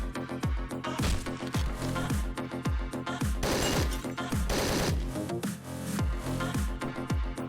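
Top-down shooter Hotline Miami 2: Wrong Number delivers a steady run of punchy gunshots over a driving music track, with a few louder crashing blasts near the middle. No one talks.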